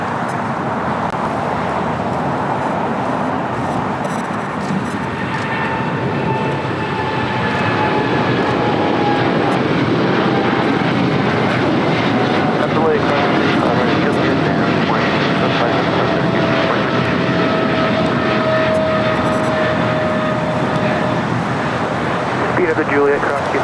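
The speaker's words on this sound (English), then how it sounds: "Cargo 777 freighter heading to Cincinnati CVG." A Boeing 777 cargo freighter jet at LAX gives a steady, loud roar of jet engine noise throughout, broadband and sustained with a faint whine, with wind and traffic rumble mixed in.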